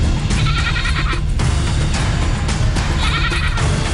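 A caged goat at a tiger reserve in Rajasthan bleats loudly and repeatedly in close, insistent bursts over a constant rough background noise.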